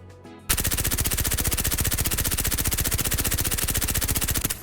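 An MP7A1 submachine gun fires full auto in one unbroken burst of rapid, evenly spaced shots lasting about four seconds, loud and close.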